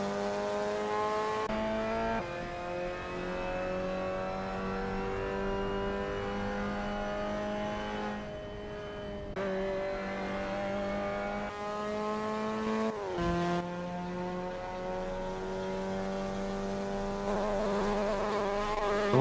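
Mazda NA MX-5 race cars lapping Mid-Ohio in a racing video game, a steady layered engine drone from several cars with pitch rising and dropping through gear changes, loud and continuous with no talk.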